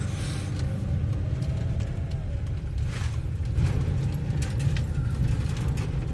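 A car driving along a road, heard from inside as a steady low rumble of engine and tyres that holds evenly throughout with no speech.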